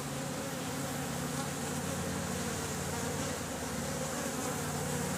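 Honey bees buzz steadily and densely around an open hive during a beehive inspection, a constant close swarm drone with no talking.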